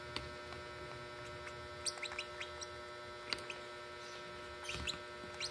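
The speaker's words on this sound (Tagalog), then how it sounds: "Lovebirds po ito guys." Two-week-old lovebird chicks make short, faint high chirps scattered over a steady background hum while being hand-fed a thin Cerelac mix.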